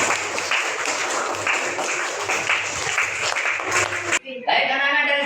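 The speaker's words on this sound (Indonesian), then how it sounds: "Tepuk tangan untuk kita semua." Students in a classroom applaud in a dense, continuous wash of clapping that stops abruptly near the end, leaving a brief quieter tail.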